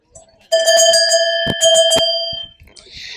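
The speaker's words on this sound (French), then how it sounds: "cloches qu'on retrouve surtout dans les Alpes avec ce qu'on appelle la savoyarde, qui a cette forme ronde, qui a un son métallique assez puissant" A round, metallic Savoyard Alpine cow bell rings loud and close, struck in a quick series of clangs with a sustained bright, ringing tone that decays as someone speaks faintly around it.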